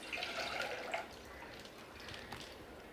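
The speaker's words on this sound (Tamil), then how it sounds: "மொத்தமாக இதில் 1 லிட்டர் பால் ஃபஸ்ட்டு ஆட் பண்ணிக்கலாம்." Milk poured into a pan, a steady low liquid splash and trickle at moderate loudness, alone without talk.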